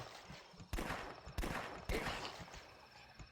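Three sharp gunshots crack out at roughly half-second intervals in The Last Stand, a zombie survival game, each a loud broadband burst over a low murmur of background noise.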